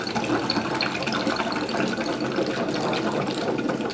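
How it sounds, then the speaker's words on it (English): Water bubbling and gushing steadily out of a container as air is blown through tubing, a continuous loud rushing splash lasting throughout. "And you can see how the water will go out."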